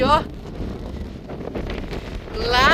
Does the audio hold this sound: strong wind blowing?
yes